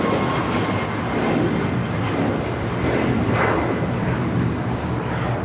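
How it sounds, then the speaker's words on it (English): A Copa Airlines Boeing 737 MAX 9 departs on its takeoff roll, a continuous loud jet roar with a deep low rumble swelling and easing in waves over a few seconds, no voices. "402 taking off to Panama City on a MAX 9."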